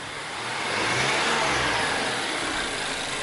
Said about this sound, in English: And this is from the intake.